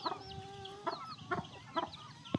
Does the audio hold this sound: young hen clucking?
yes